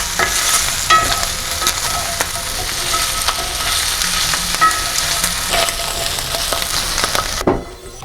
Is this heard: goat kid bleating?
no